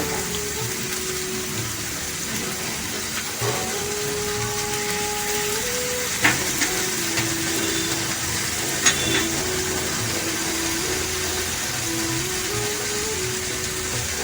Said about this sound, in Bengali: আমি পেঁয়াজকে একটু লাল করে ভেজে নেব